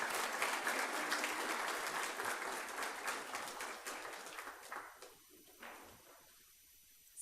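An audience at a high school science day event applauds to welcome a scientist to the podium. The clapping is dense and steady, then thins out and fades toward the end.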